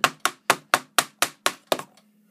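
A pipe coupling is tapped onto a workbench dust collection fitting: eight sharp, evenly spaced knocks in quick succession, close and loud, then silence.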